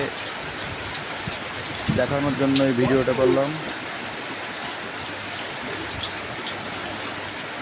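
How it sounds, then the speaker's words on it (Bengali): Steady rain falling on a rainy afternoon, an even, continuous hiss that runs through the whole stretch, with someone speaking briefly over it partway through. "সেই মুহূর্তেই আল্লাহ তালার অশেষ রহমতের বৃষ্টি"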